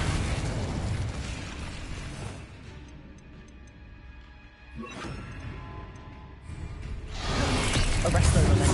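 Fire spells cast in the Hogwarts Legacy video game, bursting and crackling in loud whooshing blasts that swell, fade and return, with a voice calling out over the effects.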